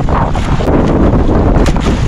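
Strong wind roars and buffets the microphone in a loud, continuous rush with no let-up.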